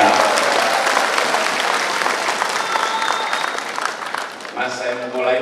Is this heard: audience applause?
yes